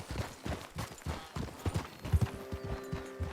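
Rhythmic clip-clop of horse hooves trotting at a steady pace, fairly close, with no talking, in the video game Red Dead Redemption 2.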